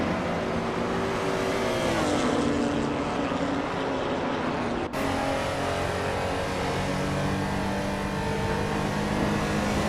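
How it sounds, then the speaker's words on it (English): Race cars in a video game AI race roar in a loud, continuous engine drone with rising revs and a brief cut near the middle, and no voices over it. "Hope you're ready to see some exciting AI car races."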